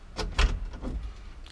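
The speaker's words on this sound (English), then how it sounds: "Got your glove box door." The glove box door of a 1965 Ford Mustang opened and shut close up, making a couple of soft muffled thumps and clunks with light rattling in a quiet garage.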